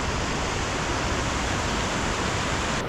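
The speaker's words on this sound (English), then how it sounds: "this is our creek now" Floodwater in a creek at an off-grid property rushes past in a dense, continuous roar, loud and close, with no breaks or voices.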